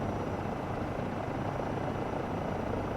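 A Eurocopter EC135 helicopter in Microsoft Flight Simulator 2024 hovers in ground effect, its rotor and turbine giving a steady, dense, loud whooshing drone with no break.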